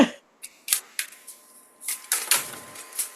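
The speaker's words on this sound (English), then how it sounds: "while you're shuffling that deck" A deck of cards is shuffled during a birthday card reading, heard as a series of short papery riffles and snaps in separate bursts, close and fairly quiet with no talking.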